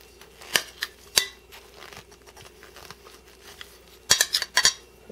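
A knife or scissors cutting open a cooked egg tortilla roll from a vertical egg cooker, giving crisp close clicks and snips in two clusters, with a faint scrape between them and no speech.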